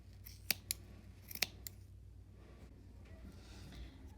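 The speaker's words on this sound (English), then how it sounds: "I'm going to take my scissors and I'm going to cut all of these looped pieces." Scissors snipping through yarn loops on a circular knitting loom, a few sharp close clicks in quick pairs, then quiet.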